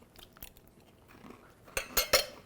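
Crunchy bread stuffing with roasted chestnuts and spicy sausage being chewed close up: faint scattered crackles, then three sharp, louder crunches near the end.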